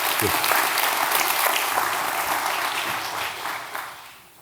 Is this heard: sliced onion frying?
no